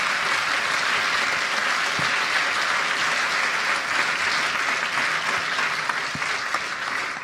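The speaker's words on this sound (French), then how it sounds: "je pense qu'on peut l'applaudir" Sustained audience applause after a talk on digitalising medical appointments, a broad, steady roar of many hands clapping that stays even and loud for several seconds, a few stray sharper claps standing out.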